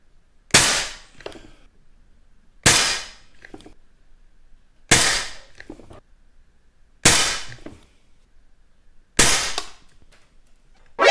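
Five evenly spaced sharp shots from a Beeman P17 air pistol fitted with a silencer, firing H&N Finale Match pellets, each a crisp snap with a short decay, about two seconds apart in a quiet room.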